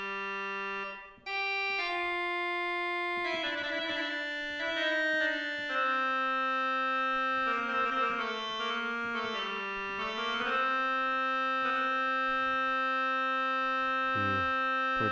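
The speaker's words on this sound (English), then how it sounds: "we have a crumb horn at 16 foot" A rare 16-foot crumhorn reed stop on an American Classic pipe organ plays a slow, buzzy, nasal line of sustained notes with chordal accompaniment, loud and continuous, with no talking.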